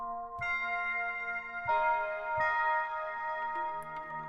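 Soft FM bell combi patch on the Hyperion modular synth, a few struck bell-like notes with bright ringing partials, each decaying slowly and overlapping, played alone at a gentle level.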